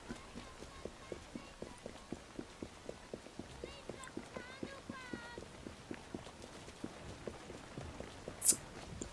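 Horse hooves clip-clop steadily on a street in the video game Assassin's Creed Syndicate, an even trotting rhythm at moderate distance, with a brief sharp high squeal near the end.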